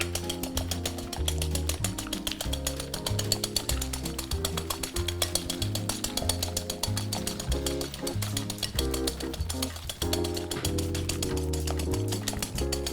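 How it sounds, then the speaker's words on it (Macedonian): Egg whites being whisked by hand with a wire whisk in a bowl, a fast, steady rhythmic clatter of metal against the bowl running continuously, close and fairly loud with no talk. "ќе ги изматам со матилица, за да добиеме една пена"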